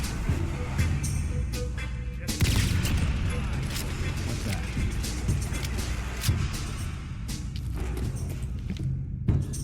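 A heavily recoiling gun firing in modded Fallout 4, sharp bursts of shots and thuds scattered among mechanical clatter, with someone talking over the gameplay.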